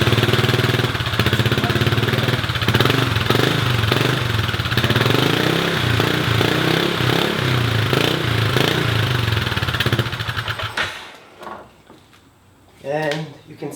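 Kymco Maxi scooter engine, recently repaired and prone to overheating, runs steadily for about ten seconds with a loud, busy drone, then cuts out abruptly. A voice is heard faintly near the end.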